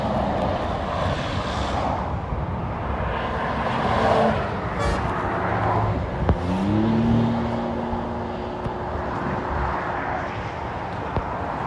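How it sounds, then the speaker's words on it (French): A Porsche 911 GT3 Touring, 992 phase 2, accelerates past on a Normandy motorway, a rising engine note sweeping upward through gears midway, heard over steady traffic and road rumble. "Bon, GT3 Touring, là, 992 phase 2."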